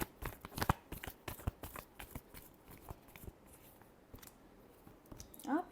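Tarot cards being shuffled up close in quick, crisp flicking bursts, the riffling clatter tapering off before a faint rustle at the end, quiet and without speech.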